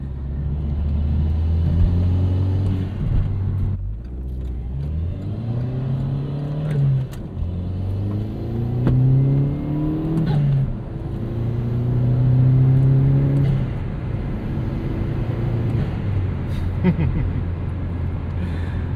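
A 2009 Chevrolet Cobalt SS Turbo driven hard, its engine droning loudly and rising in pitch again and again as it accelerates through the gears, heard from inside the car with no talking.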